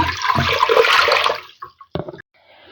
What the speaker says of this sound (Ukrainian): Отже, вливаю 1 літр води.